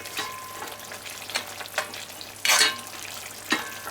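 Jamaican brown stewed fricassee chicken simmering in a pot, a quiet bubbling sizzle with occasional scraping stirs and one louder burst, close and faint overall, no speech.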